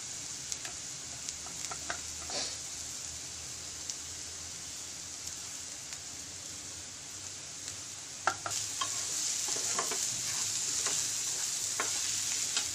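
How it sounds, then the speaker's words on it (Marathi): Onions frying and browning in a pan give a steady, quiet sizzle with scattered crackles and a few stirring clicks, holding on alone without talk. "कांदा तर व्यवस्थित शिजला आहे, ब्राऊन व्हायला सुरुवात पण झालेली आहे"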